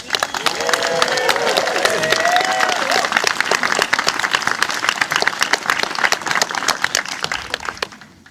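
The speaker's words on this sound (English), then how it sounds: "Let's give them one more round of applause" A crowd at the Sunday morning closing of a gaming camp gives a sustained round of clapping and some cheering that carries on for about eight seconds before tapering off at the end, with a few voices mixed in early on.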